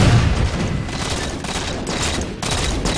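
Dense bursts of rapid gunfire from the video game Halo 4, loud and close, crackling continuously across the whole span with brief dips.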